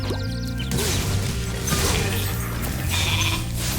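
Sheep bleating in the Spyro Reignited Trilogy video game, heard over a dense, steady game music and effects bed with a few crashing hits, loud and continuous.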